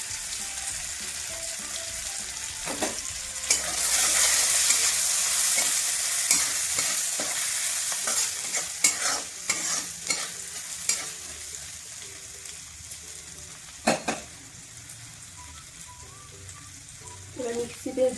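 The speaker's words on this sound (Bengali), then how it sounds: "তেল গরম হয়ে গেছে। এবার ওর মধ্যে দেবো হচ্ছে 2টো কাঁচা লঙ্কা চিড়ে দিয়েছি, একটু হিং আর আদা ঘষে দিয়ে দিয়েছি।" Green chilies, hing and grated ginger hit hot oil with a sudden loud sizzle, then crackle and spit more quietly while a spoon stirs with scattered scraping clicks.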